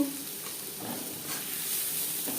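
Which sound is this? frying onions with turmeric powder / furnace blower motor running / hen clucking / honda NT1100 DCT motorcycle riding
frying onions with turmeric powder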